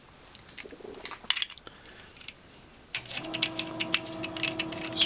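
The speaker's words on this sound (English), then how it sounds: "screw this together" Metal J-pole antenna parts being screwed together by hand: a few sharp metallic clicks and clinks early, then a steadier run of small tapping and scraping, close and fairly quiet.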